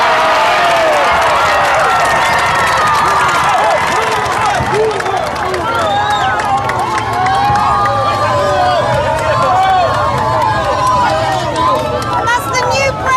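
A dense crowd at a presidential swearing-in procession in Paraguay roars and chatters with scattered clapping and cheering, close and loud throughout, with many overlapping voices.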